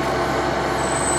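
A water truck arrives at a campground fire, a loud steady heavy-engine drone with a brief high hiss near the end, no talking over it.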